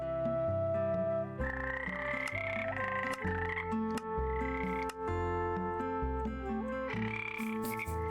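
Frogs in a modded Minecraft world croak in a continuous, layered chorus of tonal, musical calls that rise and fall, loud and close, with no talking.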